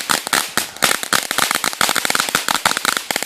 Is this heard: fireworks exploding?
yes